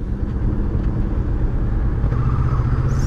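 A carbureted 2018 Kawasaki Versys 650 ABS Tourer idles steadily nearby, a constant low engine rumble with no revving.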